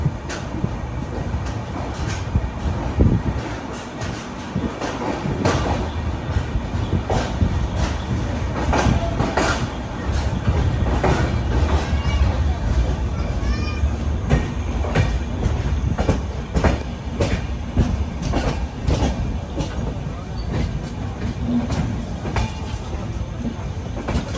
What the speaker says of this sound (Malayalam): കർവാർ റെയിൽവേ സ്റ്റേഷനിലേക്ക് ഇതാ നമ്മുടെ ട്രെയിൻ എത്തിക്കൊണ്ടിരിക്കുകയാണ്